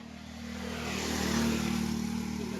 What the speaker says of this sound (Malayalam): വേറൊരു അർജൻറ്റായിട്ട് ഒരു ബൈക്ക് പോവാണ്.